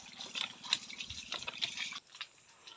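Water poured for a bath splashes and trickles in close uneven pours that fade out at the end, with no talking.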